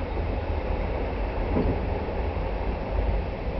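The Twilight Express train arriving at Sapporo, a steady low rumble of rolling rail cars heard from inside, continuous and fairly faint, with no talk.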